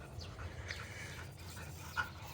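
A dog panting while fetching a ball outdoors, quick faint breaths with a small whimpering catch near the end, quiet and close.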